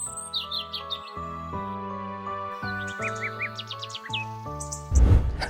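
Cheerful birdsong of chirps and whistled trills over a gentle musical accompaniment, as birds sing at a lakeshore in the morning, ending with a short burst of rustling noise.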